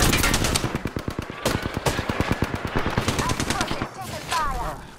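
Rapid automatic weapon fire in the Apex Legends battle royale game, several loud bursts of rattling shots in quick succession, with players talking excitedly over the gunfire.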